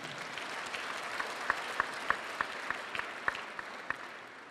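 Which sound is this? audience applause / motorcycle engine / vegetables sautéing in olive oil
audience applause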